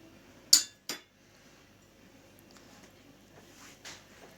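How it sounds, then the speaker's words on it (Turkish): A metal spoon being lifted out of a bowl of flour cookie dough gives two sharp clinks close together near the start. Soft faint knocks follow, with no talking. "Kaşığı çıkartayım."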